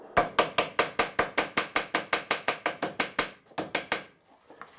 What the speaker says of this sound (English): the easiest way, is to use a ball peen hammer